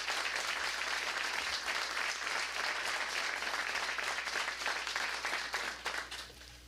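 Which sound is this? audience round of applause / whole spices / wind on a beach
audience round of applause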